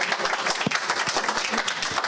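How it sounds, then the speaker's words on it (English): A short burst of audience clapping at an investor forum, a fairly close crowd of hands with a few distinct sharp claps standing out, continuing steadily for about two seconds without speech. "So, yes, a round of applause."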